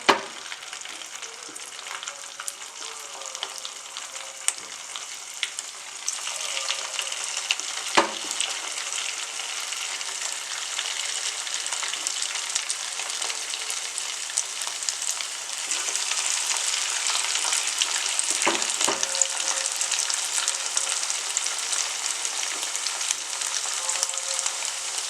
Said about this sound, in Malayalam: എണ്ണ ഇവിടെ ചൂടായിട്ടുണ്ട്. ഇതിലേക്ക് നമ്മൾ കുറേശ്ശെയായിട്ട് ചേർത്ത് കൊടുത്ത് വറുത്തെടുക്കാം